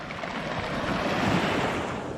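Waves wash onto the pebble beach at Nice, France, on the French Riviera, a steady, fairly loud broadband surf roar with wind noise and no voices.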